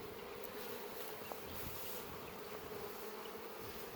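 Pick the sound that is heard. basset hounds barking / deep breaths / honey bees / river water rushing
honey bees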